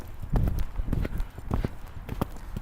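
A horse's hooves clip-clop at an uneven walking rhythm on a riding-school arena surface during a lesson, close and moderately loud, with faint voices in the background.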